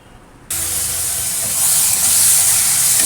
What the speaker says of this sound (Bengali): চিংড়ি মাছ দিয়ে দিয়েছি এবার চিংড়ি মাছটা ভাজা হোক